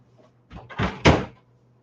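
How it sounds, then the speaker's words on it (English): An indoor door is pushed shut, a brief rustling shuffle followed by a firm thud of the latch closing, close and moderately loud. "Let me shut this door."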